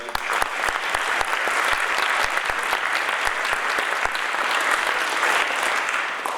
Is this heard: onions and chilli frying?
no